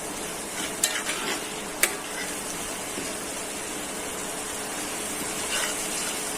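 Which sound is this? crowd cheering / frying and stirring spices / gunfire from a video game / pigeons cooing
frying and stirring spices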